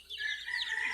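Chickens on a small backyard farm clucking and calling in a short, continuous burst, close and fairly loud.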